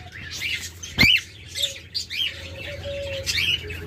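A pair of cinnamon pearl cockatiels chirp in short, bright bursts, close by, with a few sharper calls and a faint sustained tone underneath, no voices.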